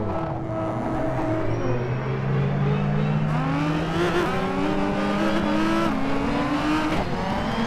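A race car engine in the rFactor 2 sim racing game drones loudly and steadily while driving a practice session. The pitch climbs and drops through gear changes and a speech-like voice sits faintly underneath.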